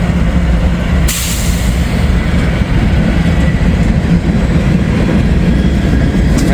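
An old Dash 8 diesel locomotive train passes in fog, a loud continuous rumble and rolling roar of wheels and cars, with a sharp hiss bursting in near the start and steady heavy noise throughout.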